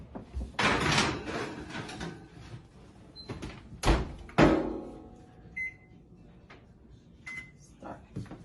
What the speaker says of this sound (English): I'm going to be transferring it now into the oven, and I'm going to be turning it on broil on high